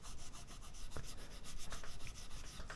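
An abrasive Baroque fret eraser scrubs across guitar frets in quick, even back-and-forth strokes, a close, soft gritty rasp that keeps a steady rhythm throughout.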